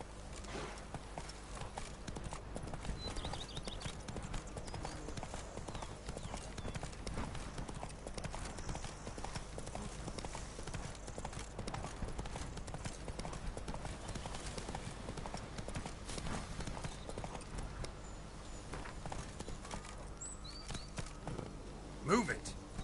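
Hooves of the horse Roach in The Witcher 3 Blood and Wine pound in a steady galloping clip-clop rhythm, close and continuous, with game speech over part of it.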